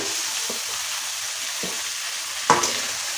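Chopped tomato sizzling in a pan with ginger and garlic, later joined by potato and onion, a steady close frying hiss broken by a few scraping stirs of a spatula, the loudest near the end.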